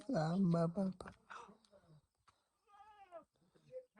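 A goat bleats loudly and close at first, then softer bleats follow with brief human sounds in between.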